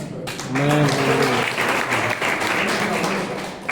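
A church congregation claps during a Kannada sermon, a dense burst of hand applause that swells and holds steady after a brief spoken phrase at the start.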